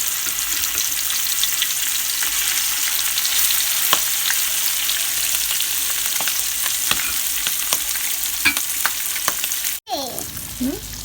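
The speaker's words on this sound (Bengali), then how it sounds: "এবার এটাকে একদম হালকা করে ভেজে নেব।" Hilsa fish fries lightly in soybean oil with a steady, close crackling sizzle and scattered pops, cut by a brief break before the frying resumes more quietly.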